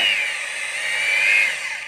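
A 305 sliding saw switched on for a test run, giving a steady high-pitched motor whine that holds level for about two seconds with no cutting.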